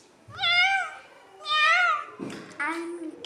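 A voice imitating a cat, giving three drawn-out, whiny meows spaced about a second apart, loud and close.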